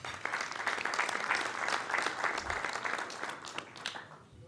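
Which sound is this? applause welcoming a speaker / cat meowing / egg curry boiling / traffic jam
applause welcoming a speaker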